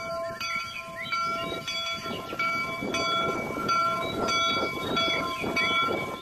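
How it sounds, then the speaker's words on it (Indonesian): A toy train locomotive plays its electronic train sound: bright, repeated horn-like tones over a rhythmic clacking pulse, close and moderately loud, with no talking. "ini lokomotif kereta api."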